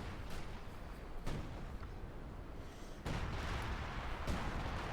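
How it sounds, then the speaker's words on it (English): Artillery strike in the video game Company of Heroes 2, with several heavy booming impacts spaced a second or so apart over a continuous rumble of battle, fairly quiet and distant. "And an artillery strike here"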